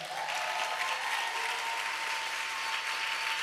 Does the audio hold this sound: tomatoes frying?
no